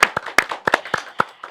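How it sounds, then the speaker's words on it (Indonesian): Sparse, irregular hand claps from a small audience at a guest-star appearance in Pondok Indah, a handful of sharp separate slaps rather than full applause. "Tepuk tangan dulu dong."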